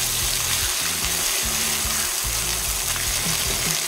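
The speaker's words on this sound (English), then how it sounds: "you're frying it in this fat and in this juice, in these spices" A tortilla fries in beef birria fat and consommé juice with spices, giving a steady, loud, continuous sizzle with crackling, bubbling texture throughout, close up and alone.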